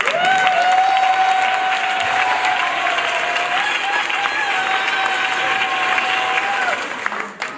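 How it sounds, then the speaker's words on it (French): An audience at a civil wedding gives loud, sustained applause throughout, with a long whistle-like tone running over it, before the clapping fades at the end. "je demande qu'on puisse l'applaudir très fort"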